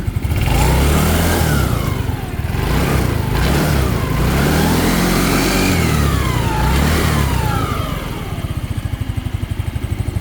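An engine running loudly and steadily close by while a belt turns a wheel, a continuous mechanical drone with a rapid pulsing rhythm toward the end and no talking.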